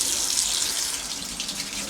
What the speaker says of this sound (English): to run hot water out the tap before I boil the kettle